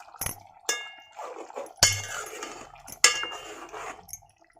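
A spoon stirs egg masala curry in a pan, giving a few sharp metallic clinks and scrapes against the pan at irregular intervals, close and moderately loud, with brief quiet gaps between.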